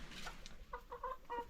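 A duck yelling on a small farm among chickens, a few short raspy calls clustered near the end, fairly faint against outdoor background noise.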